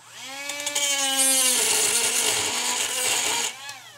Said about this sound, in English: I will take a Dremel with an abrasive cutting wheel, and we will just go ahead and make the first couple cuts.